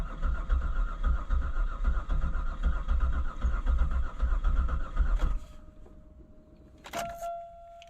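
A Buick engine cranks and runs with a heavy, rumbling low drone for about five seconds, then shuts off, leaving a faint hum and a brief metallic clunk.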